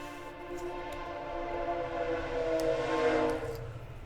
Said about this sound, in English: And there's our train going by right on time.